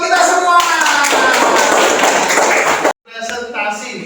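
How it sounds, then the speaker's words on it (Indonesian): Students in a classroom clap together in a loud, dense burst that cuts off abruptly, followed by quieter sounds and voices. "Tepuk tangan buat kita semua."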